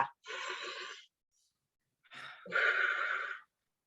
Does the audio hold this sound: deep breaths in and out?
yes